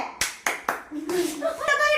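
Three sharp hand claps in quick succession, followed by a voice speaking close by.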